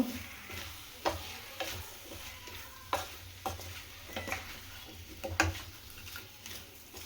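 A spoon stirs spice powders into a sliced plantain curry in a pan over a low flame, giving soft scraping strokes with periodic sharp clicks against the pan over a faint steady sizzle, close and quiet.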